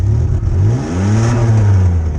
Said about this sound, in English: it revved up when I gave it gas